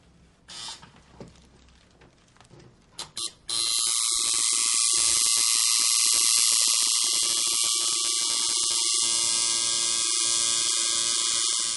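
A tattoo machine pulling a line in black ink starts after a few seconds of quiet clicks and handling. It then buzzes loudly and steadily at close range for the rest of the clip, with no talking.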